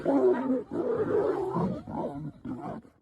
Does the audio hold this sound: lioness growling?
yes